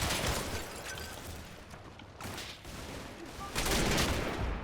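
Gunfire rattles in a Combat Mission: Battle for Normandy hedgerow battle, with distant, fairly faint bursts of rifle and machine-gun fire swelling and easing across the scene.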